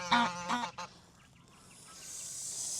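Goose honking on a farm, two or three loud close honks at the start, followed by quiet outdoor background.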